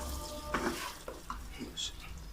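Desi ghee sizzles in a hot pan for a Mughlai chicken dish, with soft stirring scrapes and crackling bursts at close range, fairly quiet and with no voices.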